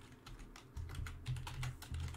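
Quiet, rapid typing on a computer keyboard, with a run of light key clicks and a few heavier strokes spread across a couple of seconds and no voices.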